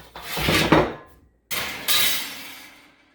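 A pizza pan goes into a preheated 450-degree home oven: two clattering bursts of metal and oven-door noise, the first with a sharp bang, a short silence between, then a long fading rumble.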